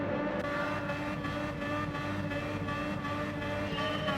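Vintage 1965 Formula 1 cars in a racing video game sit at the start, engines droning loudly and steadily in layered harmonic tones, with a faint rise as they rev toward the launch.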